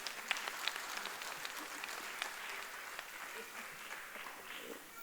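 An audience at a Karnataka Arya Vaishya literary conference and cultural event claps steadily in a hall, a faint but continuous patter of applause.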